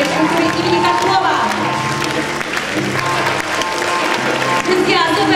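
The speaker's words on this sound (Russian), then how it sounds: "Друзья, особые аплодисменты" Dense, sustained audience applause for the oriental dance group Habibi at a palace of culture concert, loud and steady throughout with a brief dip midway and crowd noise mixed in.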